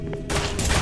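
Gunfire in the horror game SCP: Containment Breach: two abrupt, loud bursts of shots about a quarter-second apart, with the second volley carrying on to the end.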